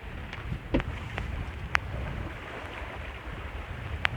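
A sailboat moving under steady wind off Ardnamurchan Point on the Scottish west coast, with rushing wind and wave wash plus a few sharp creaks or knocks from the rigging and hull.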